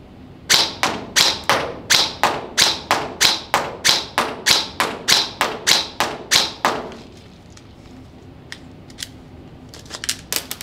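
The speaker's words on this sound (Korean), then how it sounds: "마지막 세 번째 사격 테스트 하겠습니다." A G&G SGR 556 airsoft rifle fires a fast, evenly spaced string of about seventeen sharp snapping shots, close and loud, followed by quieter silence broken by a few faint scattered ticks.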